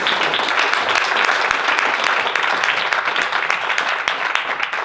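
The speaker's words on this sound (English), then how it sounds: "Let's give them another round of applause." A crowd applauds steadily, a dense wash of clapping that holds at even volume throughout.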